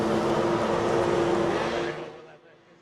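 Racing powerboats with 550cc engines on Lake Mulwala at a formula powerboat grand prix, a loud sustained engine roar that fades over the last second as the boats pull away, with a voice speaking over it.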